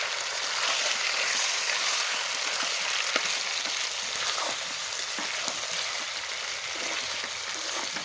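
Marinated chicken hits a pan of onions fried until reddish, setting off a loud, steady, hissing sizzle that runs unbroken throughout.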